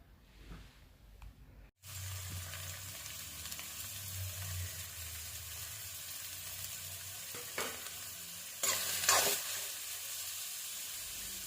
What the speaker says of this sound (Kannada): ಈರುಳ್ಳಿ ಬ್ರೌನ್ ಕಲರ್ ಬರೋ ಗಂಟ ಹುರ್ಕೊಳ್ಳೋಣ.